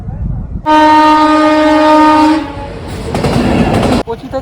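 A train passes a railway level crossing on a road in Jharkhand toward Madhupur: a loud, sustained horn blast for about two seconds, then a close rolling rumble and clatter of wagons that cuts off abruptly.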